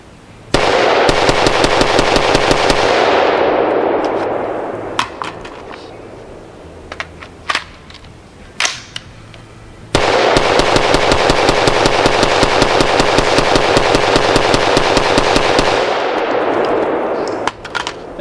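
An AR-15 rifle built on a StarLos SLF 15 polymer lower receiver, fired at SHOT Show 2017, lets off two long, loud strings of rapid shots with a pause and a few metallic clanks between them.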